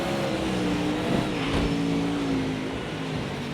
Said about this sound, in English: There go the Lamborghinis I can hear.